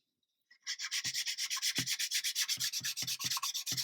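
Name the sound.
sanding with 800 grit sandpaper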